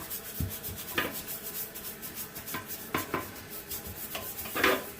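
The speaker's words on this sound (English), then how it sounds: "And then we're going to take the toilet brush" Soft, quiet scrubbing with a toilet brush inside a toilet bowl, irregular strokes rubbing against the hard surface, punctuated by occasional light taps.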